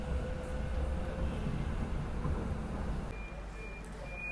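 A metro train pulls into an underground station, giving a steady loud rumble and rolling roar with a thin high tone, easing slightly toward the end as it slows.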